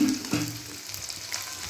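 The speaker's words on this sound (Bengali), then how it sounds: "এইগুলো তো আমি এখন ভাজছি" Food fries in hot oil in a home kitchen, a steady bright sizzle with a couple of louder crackling bursts as pieces shift in the pan.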